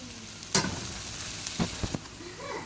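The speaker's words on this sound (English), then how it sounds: "This is 8 ounces of button mushrooms. Go ahead and add them, and we'll let them cook for a couple minutes." Button mushrooms frying in a pan with pepper, a soft steady sizzle broken by a few sharp clatters of stirring, close and without talk.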